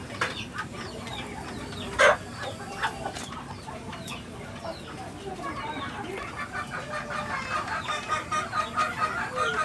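Heritage chickens cluck and chatter at feeding time on a farm, a steady busy flock sound with one louder squawk near the start and rising activity toward the end.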